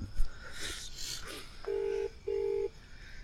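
Phone keypad dialing tones as a call is placed, two steady electronic beeps in quick succession after some faint rustling, close and quiet.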